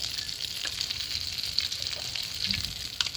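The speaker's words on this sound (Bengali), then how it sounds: "লং, এলাইচি আর দারচিনি। এটা হতে হতে ওই তেলেই" Whole cloves, cardamom pods and cinnamon sticks sizzle and crackle steadily in hot oil as a tempering for a cauliflower and paneer curry, a constant close frying hiss with small pops and no talking.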